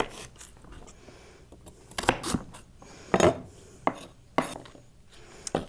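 Knife cutting celery on a cutting board in a home kitchen, a few irregular sharp chops and knocks with scraping and rustling between them, close and fairly quiet, with no talking.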